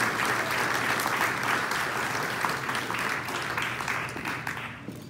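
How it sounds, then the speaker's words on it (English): Audience applause at a Midwest music association hall of fame induction, dense sustained clapping from a crowd filling the room, loud and steady before tapering slightly toward the end. "Let's give a round of applause to all of our musicians"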